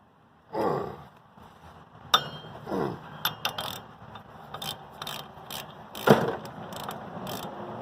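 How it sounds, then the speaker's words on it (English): A pipe wrench braced against the frame strains at a tight nut on a John Deere L100 riding mower, giving close metallic creaks, scrapes and sharp clanks in short bursts, with no talk. "So I took a pipe wrench, put it on here, braced it against there, and we're going to do this the old-fashioned way."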